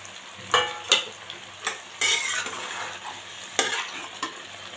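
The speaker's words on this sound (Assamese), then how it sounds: "মাছখিনি ভালকৈ ভাজি লৈছোঁ মই" Rohu fish pieces frying in a pan. A steady, close sizzle runs throughout, with repeated sharp scrapes and clacks as the pieces are stirred or turned. No one speaks.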